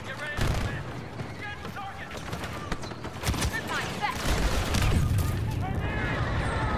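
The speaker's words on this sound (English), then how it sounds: "He's shooting me through the fucking wall." Rapid blaster and weapon fire in a Star Wars Battlefront II 8v8 Strike/Extraction match, dense bursts of shots with mechanical clatter and game effects layered throughout, fairly loud and continuous.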